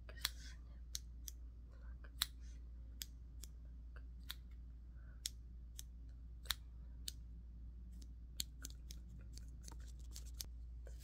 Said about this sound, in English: Just going to pluck and snip.